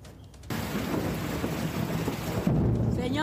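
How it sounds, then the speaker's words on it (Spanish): Rain pours onto a flooded street, a dense steady hiss of falling water that starts abruptly after a brief quiet moment, then swells slightly louder near the end with a faint voice at the close. "miren hoy cómo está la calle con una llovita que está cayendo hoy"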